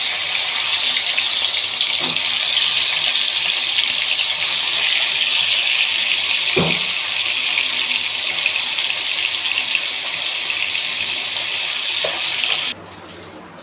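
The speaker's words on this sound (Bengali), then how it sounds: "মাছগুলো একটু হালকা করে ভেজে নেব।" Fish pieces rubbed with salt and turmeric sizzle steadily as they fry lightly in hot oil, a loud, close, continuous hiss with a few faint clicks and pops, dropping abruptly quieter just before the end; no one speaks.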